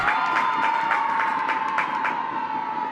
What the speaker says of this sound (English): a big round of applause coming in though from Meadows